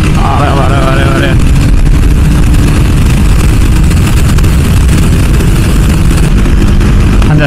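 A KTM RC390 BS3 motorcycle engine revving hard at high RPM on a highway, a loud continuous roar mixed with heavy wind rush, with a rising tone near the start.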